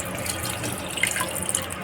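Tap water running over cut chicken pieces being washed before going into a pressure cooker, a steady close rush of flowing water with a few small splashes and drips, no talking.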